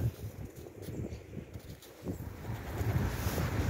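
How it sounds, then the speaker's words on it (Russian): Wind gusts buffet the microphone outdoors on a street walk, producing low, uneven rumbling that swells and fades in gusts without any voices. "здесь ветер дует."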